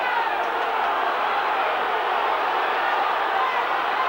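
A rugby stadium crowd roars Wigan on at a 1997 World Club Championship match against Brisbane, a constant broad wash of distant cheering and noise with no clear breaks.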